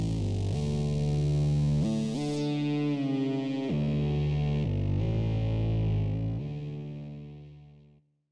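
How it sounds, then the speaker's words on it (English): Wavetable synth bass in Ableton Live 10 slowly sweeping through its wavetables, a loud sustained distorted tone whose timbre shifts with each held note change before fading out at the end, no voices. "sweep through those Wavetables to get a small bit of evolution even in your bass sounds"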